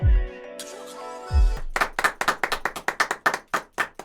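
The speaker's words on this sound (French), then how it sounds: "j'applaudis dans mon coin" A sharp chord rings out, then a run of about fifteen hand claps follows at a quick, slightly uneven pace, close and clear.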